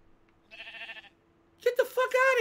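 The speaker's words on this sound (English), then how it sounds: "There's a sheep on my boat." Sheep bleating on a boat in the Minecraft video game, two short wavering bleats close by in an otherwise quiet scene, with a person talking over the second one.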